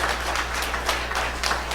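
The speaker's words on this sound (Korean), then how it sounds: "들어갈 때까지 더 박수 계속해 주세요." Church congregation applauding in a sanctuary, a moderate wash of steady hand clapping with a low hum underneath, slightly distant.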